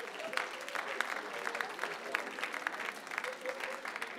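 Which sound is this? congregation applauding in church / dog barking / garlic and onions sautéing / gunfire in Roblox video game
congregation applauding in church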